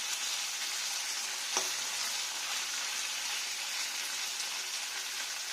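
Paneer frying in white cooking oil in a frying pan: a steady, close hiss and sizzle throughout, with a single small click near the start.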